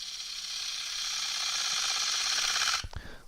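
Wood lathe spinning while a spindle gouge cuts a tenon, a steady high whining hiss of the cut that holds for almost three seconds before stopping abruptly with a knock.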